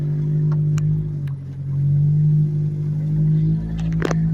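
A Geo Tracker 4x4 drives around a salvage yard, its engine giving a steady, close drone that rises slightly as it accelerates, with a few clicks and rattles near the end.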